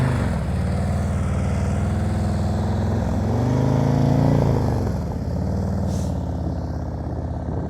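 Motorcycle engine revving high and steady through slow-speed riding practice, a loud continuous drone that swells around the middle and eases off, with no talking.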